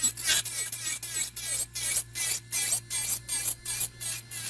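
Electric nail file bevelling the body of a long nail at about 30,000 RPM: close, bright buzzing grinding in about a dozen regular strokes, each a second or less, with brief gaps between and a low steady motor hum underneath.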